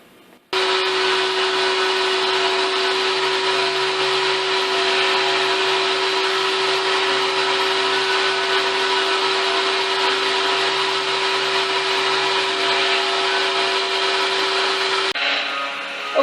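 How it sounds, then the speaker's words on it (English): CNC router machining five small pockets into a clamped wooden game board, a loud steady whine with a constant tone that runs unbroken for about fifteen seconds, then cuts off near the end. "now I got the game board clamped up in my CNC router. I'll cut little pockets for the game board."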